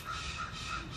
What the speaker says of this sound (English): also that's a crow